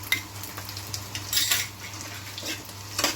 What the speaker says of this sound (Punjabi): ਲਸਣ ਪਹਿਲਾਂ ਥੋੜਾ ਜਿਹਾ ਭੁੰਨ ਲਾਂਗੇ